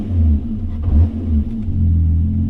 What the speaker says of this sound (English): the exhaust livens up when you hit that button